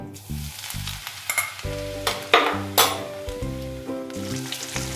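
Onions and green chillies frying with asafoetida in hot oil for Punjabi sarson ka saag, a steady sizzle with scraping stirs and a few sharp clinks over a soft background melody, no talk.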